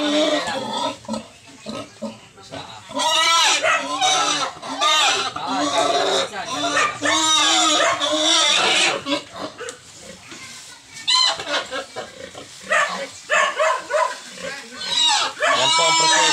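Mother pig being led out of a confinement pen on a small livestock farm, loud harsh squeals and grunts repeating almost constantly, with people talking over the noise.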